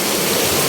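A river flows below a relocation site, a loud, close, unbroken rush of water with no pauses.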